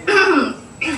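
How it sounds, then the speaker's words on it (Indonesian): A single throaty cough bursts out at close range, followed a moment later by a shorter second cough. "Duh, ini batuk ini."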